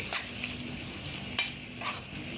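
Spices and peppers, one sweet and one hot, fry in a pan with a close, steady sizzle, punctuated by a few scraping stirs of a utensil.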